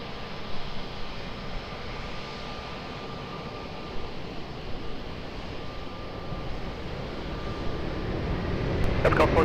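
A jet airliner departing Lisbon Airport, its engines a steady broadband roar that swells toward the end of the takeoff roll, heard from a distance with a thin steady tone running through it and no talk on top.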